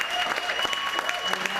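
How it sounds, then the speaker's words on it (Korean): An audience applauding, a burst of dense hand clapping from a crowd, moderately loud and steady for a moment. "관객들도 박수를 아끼지 않는다"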